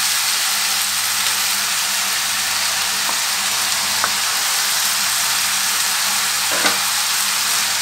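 Kofta meatballs sizzle in a pan with softened courgette, a steady, even hiss of frying fat with a few faint stirring knocks and no voices.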